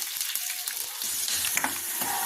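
Two cut red chillies fry in hot tempering oil with a close, soft steady sizzle and crackle, with no voices.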